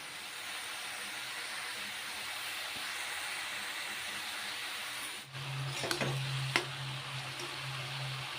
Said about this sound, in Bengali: কুমড়ো ভাজি করছি